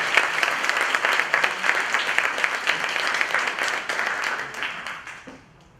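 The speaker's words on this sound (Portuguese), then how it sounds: "E uma salva de palmas para o nosso Cassião" Applause from a meetup audience on innovation, a room of people clapping steadily at moderate volume before the clapping fades out at the end.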